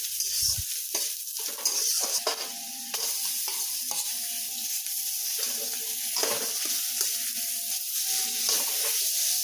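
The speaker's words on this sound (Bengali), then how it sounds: "এরপর ভালোভাবে এই এঁচোড় বাটাটাকে নাড়তে হবে যতক্ষণ না পর্যন্ত এর ভেতরের যে জলটা সেটা একটু শুকিয়ে শুকিয়ে আসছে" Mashed jackfruit paste frying in a pan while being stirred, a soft sizzle broken by repeated scraping strokes and light spoon taps at an uneven pace, close up and without voices.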